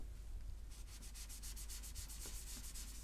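Atari 800XL plastic case being rubbed with a mild abrasive magic eraser, a quiet run of quick regular scrubbing strokes, close and faint, with no talk.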